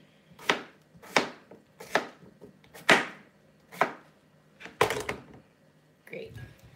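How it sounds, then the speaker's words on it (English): A knife chops through potatoes on a cutting board in about seven crisp, evenly spaced strikes, roughly one per second, with the last one softer. "finish cutting up these potatoes"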